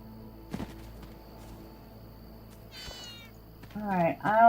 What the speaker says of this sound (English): I hear Kitty. I don't see Kitty.